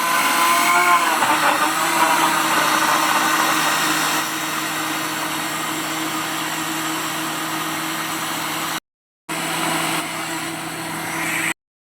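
A blender whirs steadily, loud and close, mixing a cocktail shake with two teaspoons of sugar. The motor drone holds evenly, cuts out briefly, then resumes before stopping.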